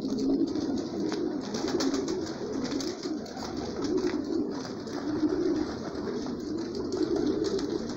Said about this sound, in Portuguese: Já tá repleto de pombo aí comendo aí.